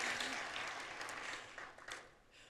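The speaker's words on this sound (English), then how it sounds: "one more round of applause" An audience claps at an opening plenary session, a fairly faint, dense wash of clapping that tapers off over a couple of seconds with no talking over it.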